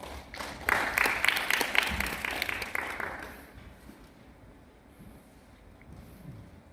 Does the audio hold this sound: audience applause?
yes